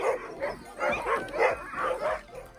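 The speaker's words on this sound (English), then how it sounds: "All of the dogs were so ready to get going, you could hear and feel the excitement in the air." Excited sled dogs barking and yipping in rapid repeated bursts at a Norwegian dogsledding camp, loud and close, several overlapping voices in a steady rhythm.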